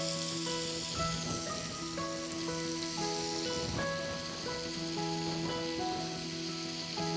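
Leeks cooking in butter over low heat in a pan give a soft, steady sizzle that stays even throughout, with some faint tonal background hum and no talking.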